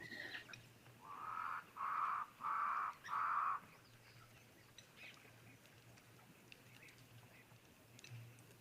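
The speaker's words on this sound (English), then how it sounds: "Can hear some crows calling in the background." Four harsh caws from a crow ring out in a steady run, somewhat distant, over a quiet outdoor background at a wildlife waterhole with faint ambient noise.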